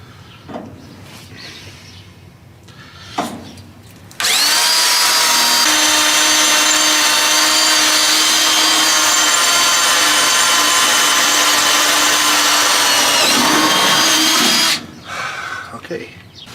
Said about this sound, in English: we'll drill a pilot hole and then a 1/2 inch hole